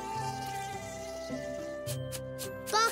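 Cartoon bees buzz in a bright animated children's show, a close, steady tonal drone that wavers in pitch, with a few short bursts of higher chirpy effects near the end.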